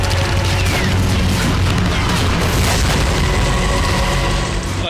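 Wartime explosions and gunfire in Nagorno-Karabakh rumble as a dense, continuous roar of booms and crackling blasts that fills the whole stretch, loud and unbroken.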